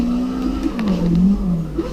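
A sustained car engine drone with a wavering rev in CarX Drift Racing on PlayStation, steady and loud throughout with a slight pitch dip and rise, no talk over it.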